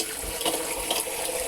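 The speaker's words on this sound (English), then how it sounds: "So I'm just going to put a little water in there." Water is poured into a container holding foraged horse chestnuts to make natural laundry soap, a steady splashing trickle running close and clear throughout with no talk over it.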